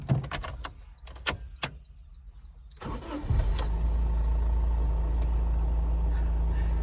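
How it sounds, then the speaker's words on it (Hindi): A Honda Amaze car owned for seven years: a door thuds shut, then the engine starts and settles into a steady, close idle hum. "तो सबसे पहले तो आप इसका इंजन नॉइस ही सुन लो यार"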